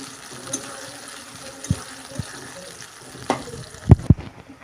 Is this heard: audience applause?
no